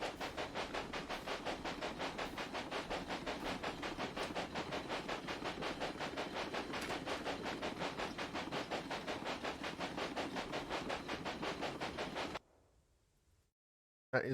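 A train in the railway-building game Railway Empire runs along the track with a steady, rhythmic chugging clatter and hiss for about twelve seconds, then cuts out abruptly to near silence.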